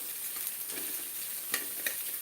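A steady, soft sizzle of onions frying in oil, with a couple of faint clicks, no talking.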